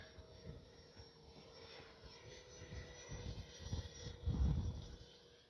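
A Freewing A-4 Skyhawk 80mm electric ducted-fan RC jet flying at about three-quarter throttle into the wind, a steady distant whooshing drone that swells louder toward the end as it passes closer.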